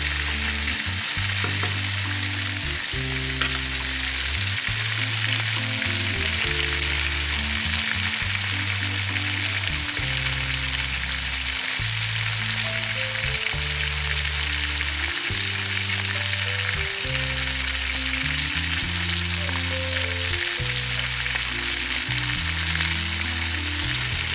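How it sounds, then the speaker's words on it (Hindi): Fish frying in oil for a Lahori-style restaurant fry fish, giving a steady, dense sizzle throughout with no speech, plus a low, repeating blocky background hum. "इसी तरह मैं दूसरी फ्राई कर रही हूँ।"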